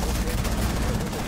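Gunfire in the video game Rainbow Six Siege as a window is shot: rapid, dense bursts of shots under a noisy mix, with voices present.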